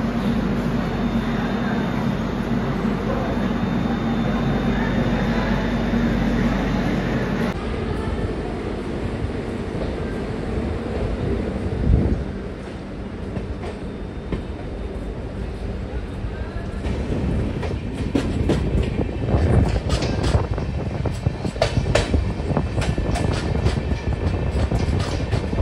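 The Devagiri Express rolls into Partur railway station, heard from inside the carriage as a steady rumble with rhythmic clattering over the rails that grows louder and rougher in the second half, with faint voices at times.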